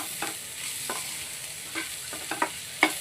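Ginger garlic paste fries with onions in a pan for a chicken curry, giving a steady broadband sizzle with several short scraping stirs spaced through the clip, close and moderately loud with no talk.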